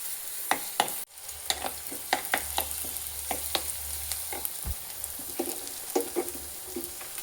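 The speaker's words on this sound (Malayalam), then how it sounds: "ആദ്യം തന്നെ ചൂടായ വെളിച്ചെണ്ണയിലേക്ക് ചെറിയുള്ളി ഇട്ട് കൊടുക്കാം" Chopped shallots fry in hot coconut oil with a steady close sizzle, broken by repeated clicks and scrapes of a spoon stirring the pan.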